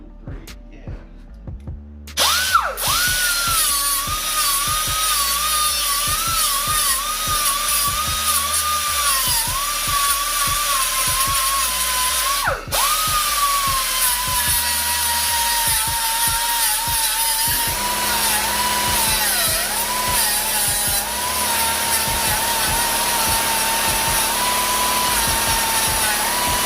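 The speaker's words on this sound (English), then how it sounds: "we can use our handy dandy cut off wheel" An air-powered cut-off wheel grinds through a motorcycle drive chain during a 520 chain and sprocket conversion on a 2020 Kawasaki ZX10R, a loud, sustained high-pitched whine with a brief dip partway through, close and alone.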